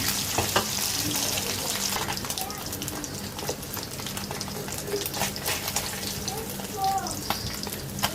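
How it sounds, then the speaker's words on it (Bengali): Pabda fish frying in oil in a pan (tawa), with a steady sizzle and crackle throughout, plus occasional clinks and faint background voices. "যে বাকি মাছগুলো দিয়ে দিয়েছি ভেজে উঠিয়ে নিব"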